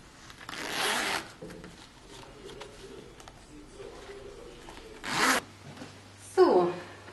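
Fabric shuffles and a zipper rasps in short bursts while being sewn into a handmade bag, the scraping strokes loud and close against soft handling noise and a quiet room.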